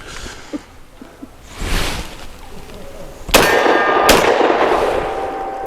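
Two loud, sharp shots from a Vz CZ 52 pistol at an outdoor range, the first followed by a ringing metallic clang, the second close behind it, with fainter earlier pops and handling noise.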